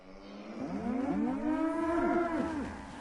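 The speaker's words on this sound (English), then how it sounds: "Sounds like 5 cows." Cattle moo in the video game Fallout 4, several long, drawn-out bellowing calls overlapping one another, rising and falling in pitch, fairly loud and close, with no talking.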